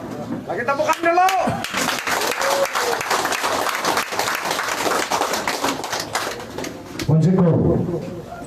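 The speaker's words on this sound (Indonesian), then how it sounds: "Lagi tepukan dulu." A crowd at an outdoor political campaign rally in Kampung Sunsuron, Tambunan, Sabah claps in a sustained burst of applause that fills the space, while a voice speaks over the clapping at the start and again near the end.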